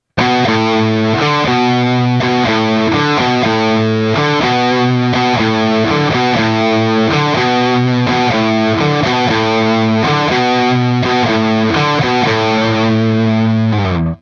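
Heavily distorted electric guitar loops a circular riff, a repeating pattern of chugging low notes that seems to rotate without a clear downbeat, loud and steady throughout.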